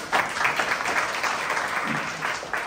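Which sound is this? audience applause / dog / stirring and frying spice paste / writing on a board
audience applause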